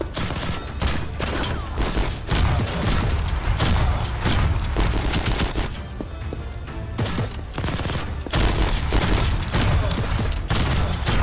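Rapid weapon fire in the video game Voidtrain rattles in dense, loud bursts of automatic gunfire with booming impacts, broken by a few brief pauses.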